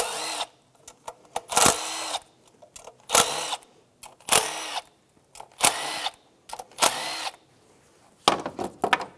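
A power tool backs out 10mm bolts from the upper intake of a 2003-2007 Infiniti G35: several short, loud whirring bursts in an irregular rhythm, close by, with clicks and clatter between them and no talk.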